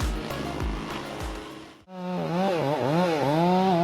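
Chainsaw cutting through a tree on a steep mountain logging site; the engine snarls at a steady high pitch, briefly cuts out, then returns with repeated rising and falling revs as the chain bites in.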